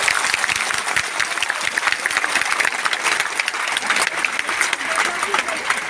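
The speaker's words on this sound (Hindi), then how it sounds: "तालियों में जोश होना चाहिए।" A crowd applauds steadily, a dense wash of clapping hands that carries on without pause.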